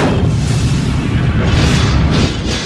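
A heavy, loud rumbling boom fills the clip as a stargate runs its dialing sequence and a chevron locks. The roar is broadband and sustained, with no voices over it.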